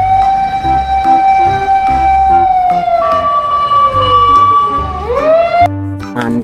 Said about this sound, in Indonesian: Wow, mobil damkar, mobil pemadam kebakaran.